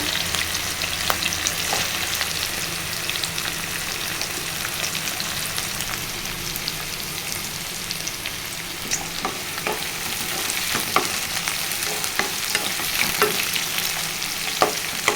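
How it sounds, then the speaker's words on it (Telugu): Green chilli pieces fry and get stirred for a brinjal and tomato curry, a dense continuous sizzle with scattered crackles and faint spoon scrapes, close and steady throughout. "ఇప్పుడు పచ్చిమిర్చి ముక్కలు వేసుకోవాలండి"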